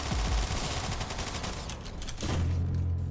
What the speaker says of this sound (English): That would be one of those grenades.